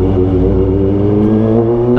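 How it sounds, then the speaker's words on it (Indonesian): A Kawasaki ZX25R motorcycle with an Arrow Pro Race exhaust revs loudly and close by, a deep, throaty engine roar that holds steady with slight shifts in pitch. "tetap pasti ada aja yang nggak suka ya untuk suara knalpot ZX ini."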